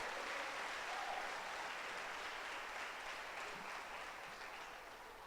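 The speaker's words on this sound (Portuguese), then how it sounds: "Quem vive para Ele, aplauda Ele mais forte, meu irmão" A church congregation at a Lagoinha service claps together in a soft, distant-sounding burst of applause that runs steadily for several seconds and slowly tapers off.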